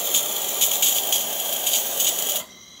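A Delonghi Magnifica XS espresso machine with a new transmission blows steam in a strong, steady hiss with slight pulsing surges. It stops abruptly near the end.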